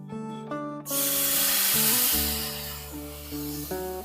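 Water splashed onto semolina cooking in a hot pan bursts into a loud steamy hiss that slowly fades, with background music playing throughout.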